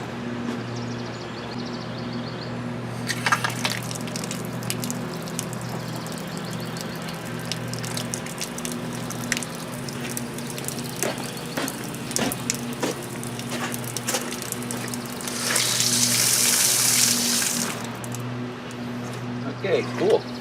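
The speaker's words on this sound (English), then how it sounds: "let me go down, turn on the water," Water gushes briefly from a newly installed 1/2-inch brass hose bibb faucet outside a house, a loud hissing spray lasting a couple of seconds amid steady low mechanical hum and scattered handling noises.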